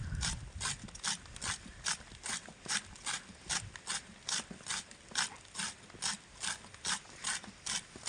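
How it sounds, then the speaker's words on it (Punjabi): A hand-cranked machine cuts mustard greens for saag with a regular, clicking ratchet-like rhythm of about two beats per second, moderately quiet and steady throughout. "ਅੱਜ ਆਪਾਂ ਮਸ਼ੀਨ ਨਾਲੇ ਕੱਟ ਲੈਂਦੇ ਆ"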